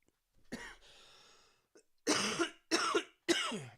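A short wheezy exhale followed by three sharp, close coughs in a row, separated by brief silences.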